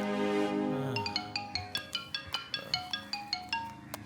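A mobile phone ringtone plays a bright, repeating electronic melody of short chiming notes in a steady rhythm, fairly quiet and close, with no voices.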